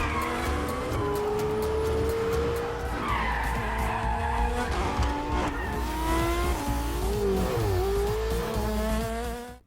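Supercars in a film chase scene, tires skidding and squealing over loud roaring engines, with sweeping pitch slides as cars rev and swerve, dense and continuous throughout.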